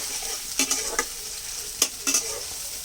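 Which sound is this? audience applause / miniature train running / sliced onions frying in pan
sliced onions frying in pan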